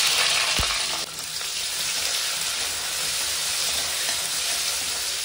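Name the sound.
onion frying in oil with cumin and dried chillies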